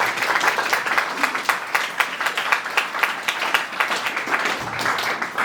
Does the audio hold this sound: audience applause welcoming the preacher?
yes